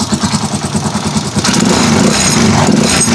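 A motorcycle engine running on fresh 15W-40 oil after an oil change, about two years old, idles close and steady with a fast, even pulsing rhythm that grows slightly louder and rougher partway through.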